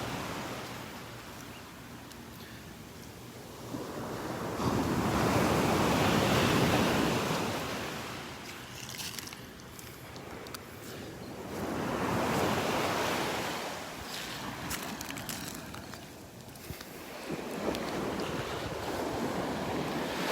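Ocean waves pounding on a beach at Marco Island, Florida, rolling in as loud, broad surges that swell and recede in slow cycles, with steady wind rumble against the microphone and no talk.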